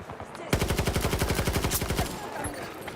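Rapid automatic gunfire in the Battlefield 2042 video game, a single sustained burst of evenly spaced close shots lasting about a second and a half, loud and unaccompanied by talk.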